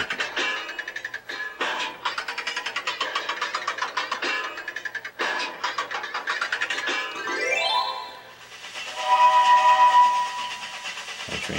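Electronic engine and motor sounds from a train racing game on an iPad, a steady buzzing drone with rising sweeps near the end, loud and continuous without talk.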